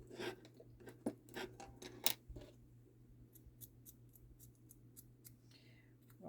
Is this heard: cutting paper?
yes